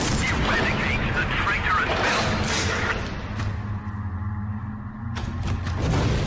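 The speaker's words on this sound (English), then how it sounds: "This is the library, where again, very unstable environment, constant explosions, screen shakes." Explosions in the Warhammer 40k Space Marine video game, a heavy, continuous rumble of blasts and crashing debris that thins out briefly before swelling again, loud and dense with no clear speech.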